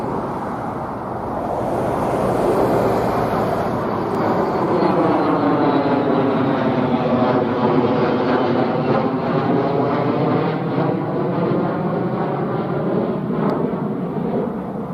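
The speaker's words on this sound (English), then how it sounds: "I've just got an F-15 flying over in the clouds." An F-15 fighter jet passes overhead in cloud near an air base, a loud, sustained roar that swells and shifts in pitch as it goes by, with no voices.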